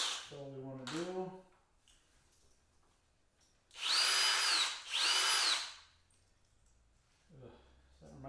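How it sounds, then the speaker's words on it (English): Cordless Kobalt drill boring pilot holes, two loud whining bursts of about a second each in close succession, with a person talking briefly before and after. "Just doing a little pilot holes all."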